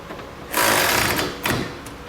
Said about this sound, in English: we can go ahead and run them down with an 18mm socket